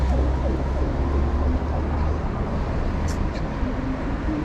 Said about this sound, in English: Ambulance people, you gotta get out of the way.